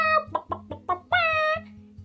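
A hen clucking close by on a farm, a run of short, rhythmic clucks followed by a longer, drawn-out cackle, loud and clear with no voices.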